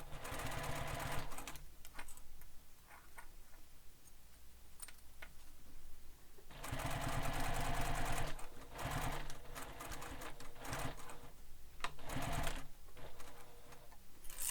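A sewing machine stitches along the angled zipper flange of a sling pack, running in several bursts of rapid mechanical stitching separated by short pauses and scattered clicks.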